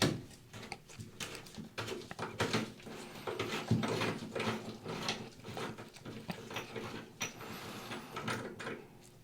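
A plastic Moen bathroom faucet hub is turned by hand, giving close, quiet clicks, scrapes and ratcheting rattles in an irregular rhythm.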